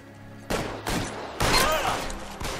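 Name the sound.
gunfire exchange in the video game L.A. Noire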